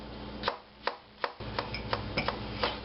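Knife chopping a jalapeno on a cutting board, about eight sharp, evenly spaced taps, close and clear, with no talking.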